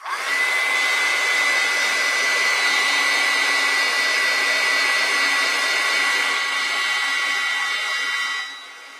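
Handheld hair dryer blowing over wet watercolor paint on a Christmas card, a loud, steady whooshing roar with a high whine that runs continuously before cutting off at the end.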